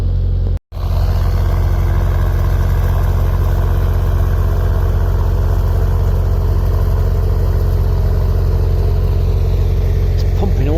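A narrowboat engine cruising on the canal into Boston runs with a loud, steady low throb, cut by one brief dropout near the start and then unbroken to the end.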